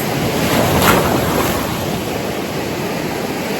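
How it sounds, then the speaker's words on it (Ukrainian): Sea waves wash steadily onto a shore on the Black Sea coast at Sanzhiyka, Ukraine, early in the morning: a loud, continuous surf roar with heavy wind buffeting the microphone and one slightly stronger swell near the start. "Погано, що хвилі трохи є."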